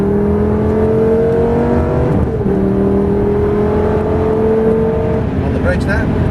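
Lamborghini Gallardo E-gear engine pulling on a race track, a continuous loud drone with pitch climbing, dipping at a shift and climbing again, heard from inside the car.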